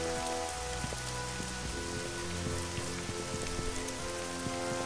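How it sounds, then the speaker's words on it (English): Steady rain falls in the video game Spiral Knights, a dense continuous patter of drops on surfaces with scattered louder plinks, layered under soft game music tones and no talking. "It's raining, it's pouring."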